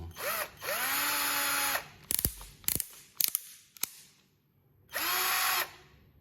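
Inntech cordless drill: short bursts of whirring motor spin-up and spin-down, separated by sharp clicking of the chuck or clutch, then one more steady run near the end, close and alone.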